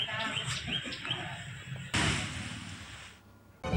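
Firecrackers set off by municipal officials outside a town office in celebration, bursting in sharp crackling volleys with a dense sustained stretch in the middle and a fresh burst at the end, loud and close.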